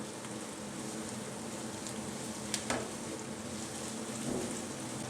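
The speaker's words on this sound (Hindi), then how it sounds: "इसको इतना फ्राई करना है कि बस नरम हो जाए, ब्राउन नहीं करना।" Chopped medium-sized onion frying gently in a pan until soft, a continuous dense sizzle at steady volume with a couple of faint clinks partway through and no talking.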